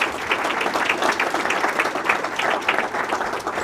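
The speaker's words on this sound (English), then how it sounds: "Let's give them all a round of applause." A full crowd at the Town of Clarkstown Women of Distinction ceremony claps for the staff, a steady, busy patter of many hands held at even loudness throughout.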